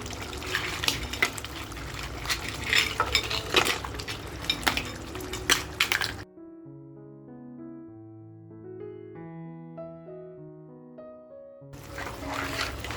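Washed freshwater crabs sizzle and scrape as they are stirred into frying masala for a village-style crab curry, with clattering and bubbling up close, broken by a stretch of music before the stirring resumes.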